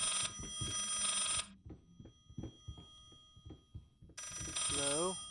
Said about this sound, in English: Where the hell's the phone?